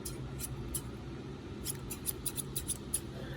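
Fancy fabric scissors snip repeatedly in a quick series of crisp, close, sharp blade closures over a steady low background hum, with no talking.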